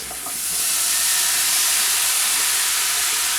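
Apples piled into a hot 10-inch cast iron skillet set off a loud, steady hissing sizzle that swells in the first half-second and holds evenly throughout, with no talking.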